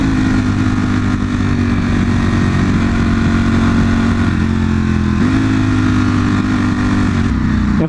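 A V4 motorcycle engine while riding gives a loud, continuous droning hum with a slight pitch shift partway through, blended with steady wind rush and no audible talk.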